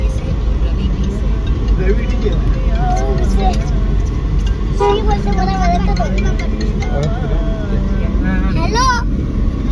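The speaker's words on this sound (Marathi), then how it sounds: "बघू शकता इकडनं सुरुवात झाली आहे रिक्षात आणि आपल्या गाड्या लागण्याची" Busy road traffic of rickshaws and cars in a jam near a temple festival, a constant engine rumble with several car horns honking close by, under ongoing talk.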